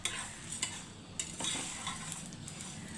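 Whole spices dry-roasting over low gas in a pan for sour-spicy mango pickle, stirred with a utensil that gives soft rhythmic scrapes and clinks over a faint steady sizzle.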